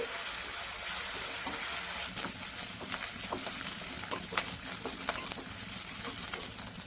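Crushed garlic and green chilli paste fries in a pan, giving a soft, continuous sizzle with light crackling pops and occasional stirring, fairly quiet and steady.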